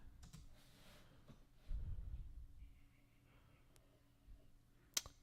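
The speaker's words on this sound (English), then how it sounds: "I'm just going to type in running and see what comes up" A computer keyboard is typed on at close range, with scattered key clicks and a brief burst of keystrokes in a quiet room.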